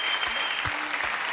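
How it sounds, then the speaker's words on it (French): A French TV studio audience at a variety show applauds in a loud, dense, continuous wash of clapping that runs steadily from start to finish. "Applaudissements, mesdames, messieurs, pour Charlie et Lulu."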